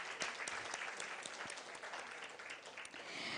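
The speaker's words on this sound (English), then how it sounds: "Can we have a big round of applause for them as well?" Audience at a Women in Sales awards event applauds steadily for the awards partner Brookfield Properties, a dense, sustained clapping from a crowd heard at moderate distance without voices.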